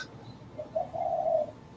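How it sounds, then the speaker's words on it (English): Pigeons or doves coo softly in the background, one low, muffled rolling call swelling and fading over quiet room ambience. "they're bloody pigeons or doves in the background"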